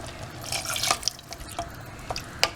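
Water is poured into a pot of mutton white curry with masala and green chillies, giving close, trickling splashes with sharp drips and small clinks in a home kitchen.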